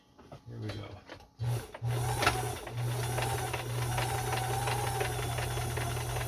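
A Kenmore 158.1400 sewing machine starts in short bursts, then runs steadily with a constant low motor hum and rapid needle chatter, close and clear.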